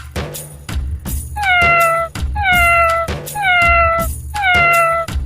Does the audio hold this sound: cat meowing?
yes